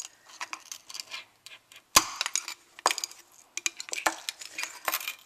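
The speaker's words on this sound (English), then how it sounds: "I'm just going to start breaking that insulation a little bit more, that glass, with this." Glass insulation inside a lightbulb being broken with a small metal tool, a series of sharp close clinks and cracks coming in irregular bursts with quiet gaps between them.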